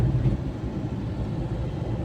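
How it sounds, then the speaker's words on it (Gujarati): Steady low engine rumble and road noise from inside a moving car, continuous and fairly loud with no talking. "આપણી ગાડી ચાલુ કરી દીધી છે અને હવે આપણે પાછા જઈ રહ્યા છીએ રાજકોટ"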